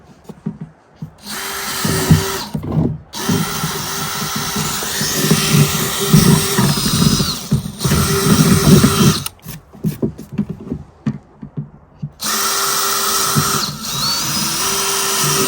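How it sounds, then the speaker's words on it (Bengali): A power drill bores into a flower pot in several runs: a loud, close whine that stops briefly and restarts, then runs steadily in a final long burst. "ফ্লাওয়ার পট কেনার পরে আবার এটাকে ড্রিল করো।"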